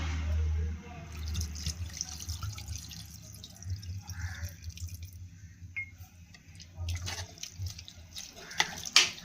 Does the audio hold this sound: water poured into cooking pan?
yes